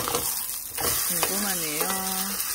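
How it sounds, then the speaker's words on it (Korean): Two eggs cooking alongside a Korean potato pancake (gamjajeon) in a pan send up a constant close crackling sizzle, and a voice speaks briefly over the frying partway through. "계란을 넣고 부쳐보려고요"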